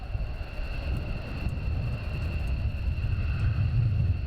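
F-15 Eagle fighter jets of the 493rd squadron take off en masse at RAF Lakenheath, heard as a deep, rumbling distant roar that slowly builds in strength and stays steady, with no talk.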